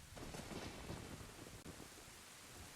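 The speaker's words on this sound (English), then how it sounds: "we got thunder, we got lightning, we got rain." Rain and rolling thunder in the video game Ocarina of Time Redux, heard as a steady hiss of rainfall with a low rumble, fairly soft.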